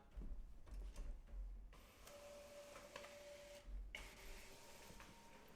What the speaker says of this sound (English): The printer is trying to print double-sided, so it takes a little bit longer.